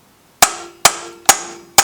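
Four sharp metallic whacks on a pry bar wedged behind the shaft of a Coleman BT200X mini bike engine to loosen the flywheel, evenly spaced and close, each ringing briefly before the next strike.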